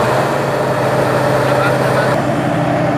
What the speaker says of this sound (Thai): เร่งเครื่องแล้วเร่งเครื่องแล้ว